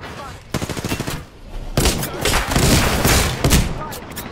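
Gunfire in the Apex Legends shooter game, rapid automatic bursts that open into sustained heavy fire with booming impacts, loud and close, with a voice talking under it.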